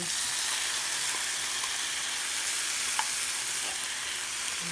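Corned beef frying in a pan gives a steady, close hiss of sizzling fat, with a couple of faint clicks from the pan partway through.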